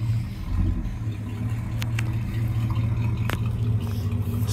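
A big red car with its engine running as it is driven, a steady mid-pitched hum with faint rumbling that holds level throughout, close by with no talking.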